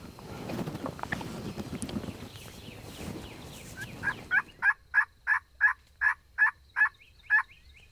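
Wild turkey gobbling in a series of about nine loud, evenly spaced calls close by, following a stretch of rustling outdoor noise with no voices.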